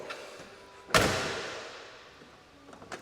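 A single loud door slam on a 1966 Ford F100 pickup with the window rolled up, near the one-second mark, a sharp thud with a short ringing decay, then quiet with a couple of faint knocks.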